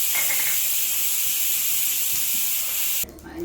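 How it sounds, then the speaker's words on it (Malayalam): A pressure cooker on the stove, cooking an onion and chilli curry, lets out a loud, steady, close jet of hissing steam that cuts off abruptly near the end. "കുക്കർ മുട്ടി തുടങ്ങി."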